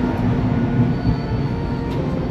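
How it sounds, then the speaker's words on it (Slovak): A train rumbles by close up on a nearby track in Sri Lanka, a steady heavy low roar with faint rail noise, no voices. "Práve v týchto chvíľach po trati prechádzal vlak a celá chatrč nepríjemne vibrovala."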